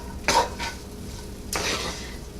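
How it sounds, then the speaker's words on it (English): Vegetables and garlic sautéing in a pan for spinach artichoke dip, a low sizzle broken by two bursts of a utensil scraping and stirring against the pan, close with no speech. "about 5 minutes or so to saute up your veggies"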